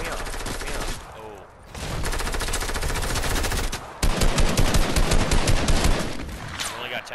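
Rapid automatic gunfire in the video game Fortnite, dense bursts of shots at close range across most of the stretch, with one brief lull and then heavier sustained firing, while players talk over it.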